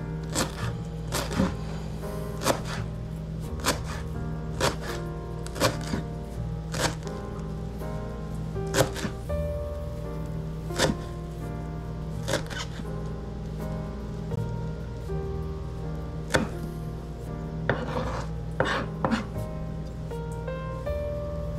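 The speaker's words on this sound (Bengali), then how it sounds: "এখন কেটে নিচ্ছি ধনিয়া পাতা" A knife chops coriander leaves on a board, making a steady stream of light, crisp taps at close range over a low constant background hum.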